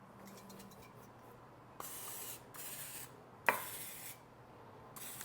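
Olive oil is sprayed into a silicone muffin pan in three short, hissing bursts. The sprays are fairly close and separated by quiet pauses.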